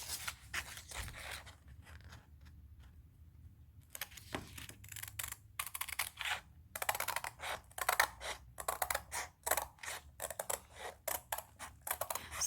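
Scissors snip close by around the edge of a diamond painting canvas with a cat design, a series of short crisp cuts and rustles between quiet pauses, with no one speaking.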